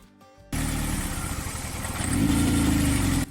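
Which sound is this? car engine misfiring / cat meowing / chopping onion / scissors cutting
car engine misfiring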